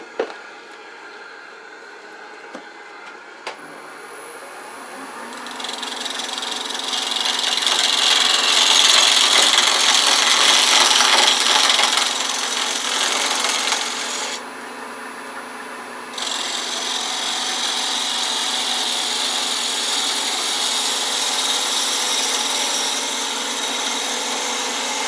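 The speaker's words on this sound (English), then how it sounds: "I'm going to use a spindle gouge with a shear, riding the bevel, and see if I can't clean this surface up a little." A spindle gouge shears across stabilized wood spinning on a lathe, a steady close rasping hiss over the motor's hum that swells for several seconds, drops briefly, then resumes.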